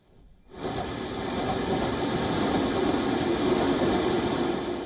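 A train travels along rails with a steady, full rumble that swells in quickly after a quiet start and holds, faint rhythmic clatter running through the ongoing roar.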